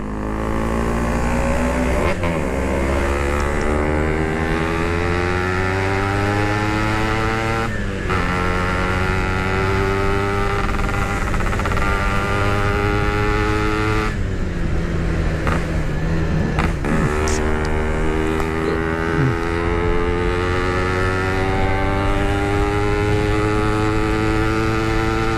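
Yamaha RX King two-stroke motorcycle engine revving hard through repeated upshifts, loud and close, pitch climbing then dropping at each gear change, with no voices over it.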